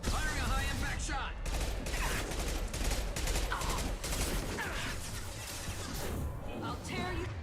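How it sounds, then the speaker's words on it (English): Dense, continuous barrage of heavy gunfire and impacts in Mass Effect 2, loud and sustained throughout with overlapping crashes and cracks. "Firing a high-impact shot."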